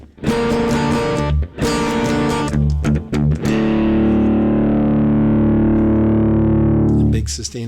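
Distorted electric guitar plays the bridge of a song, loud chugging palm-muted strums in short bursts that end on a big ringing, sustained chord.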